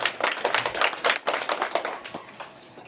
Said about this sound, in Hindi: आप लोग जोरदार ताली से स्वागत करेंगे